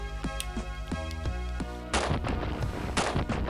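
Rapid gunfire from the video game Utopia, a steady series of sharp shots over a sustained musical bed, growing into a denser, louder barrage of overlapping blasts partway through.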